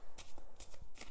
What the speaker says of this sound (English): But I want to shuffle it more.